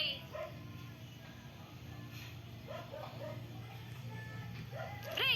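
A dog gives a series of yips and whimpering barks, faint and spread across a few seconds over a steady low hum, with another brief yelp at the end.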